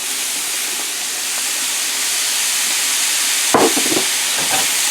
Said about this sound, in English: we'll just let that fry up for a few minutes